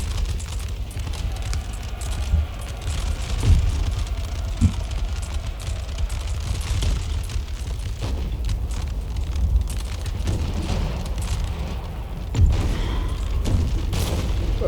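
Cannon fire in the Napoleonic battle game Napoleon: Total War, several deep booms scattered over a dense, continuous battlefield din of gunfire and rumble, with no voices.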